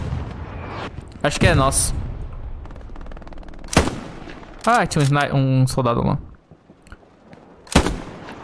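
Rifle shots and battlefield gunfire in the World War II shooter Hell Let Loose on the streets of Carentan, several sharp loud bursts spaced apart while a player talks over them.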